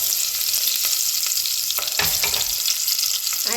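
Ginger garlic paste sizzles in hot oil in a pan, a steady bright crackle with a few soft stirring scrapes, close and alone with no talking.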